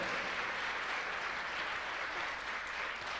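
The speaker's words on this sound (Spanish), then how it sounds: "Dele fuerte ese aplauso al Rey de Reyes y Señor de Señores." A church congregation at a Christian worship service claps together in a steady, continuous wash of applause, heard at a moderate distance and fairly soft throughout.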